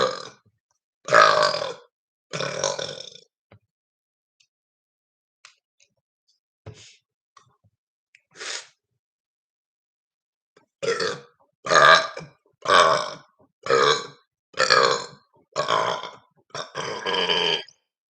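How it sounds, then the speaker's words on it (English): A man lets out a series of loud, deep burps: a few at the start, then a rapid run of about seven in close succession after a long pause. "Ooh, I got that stuck burp out."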